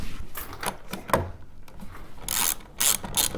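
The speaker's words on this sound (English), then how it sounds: "I'll take my ratchet here." Ratchet wrench tightening bolts while a wooden rocker chair is assembled, giving quick bursts of clicking pawl ratchets in irregular strokes, close and fairly loud.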